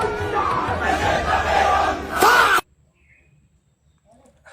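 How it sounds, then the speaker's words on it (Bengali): A protest march crowd shouting slogans against the killing of Iran's Imam Khamenei, a dense, loud mass of voices for about two and a half seconds, then cutting abruptly to near silence. "ইমাম খোমেনিকে হত্যার প্রতিবাদে বিক্ষোভ মিছিল করছে।"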